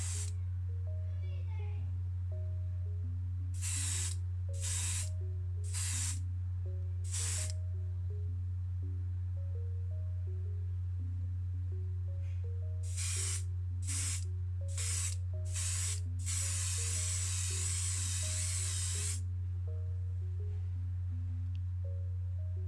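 Spray paint is applied in a light coat to a 1986 Matchbox Skoda 130 LR die-cast model, coming as two sets of four short hissing bursts followed by one longer sustained spray, over a steady low electrical hum.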